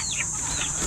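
A young chick or hen kept on a small backyard farm gives a few short, high clucking and chirping calls up close, over a steady background hiss, with no talking.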